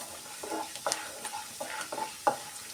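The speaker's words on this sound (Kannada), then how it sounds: "ಹಾಗೇನೇ ಒಂದು ಸ್ಪೂನು ಉದ್ದಿನಬೇಳೆ ಎಲ್ಲ ಸೇರಿ ಚೆನ್ನಾಗಿ ಫ್ರೈ ಮಾಡ್ಕೊಬೇಕು." Chana dal and urad dal crackle in hot oil for a tomato rice tempering. A soft, quiet sizzle runs under several sharp scrapes and taps from a spoon stirring the lentils.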